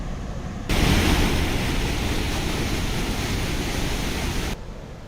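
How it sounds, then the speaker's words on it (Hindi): Water released through four gates of the Gangrel dam in Chhattisgarh at 10,000 cusecs during continuous rain: a loud, constant rushing roar that cuts in abruptly, holds steady for several seconds, then stops. "तो डैम से पानी छोड़ा जा रहा है।"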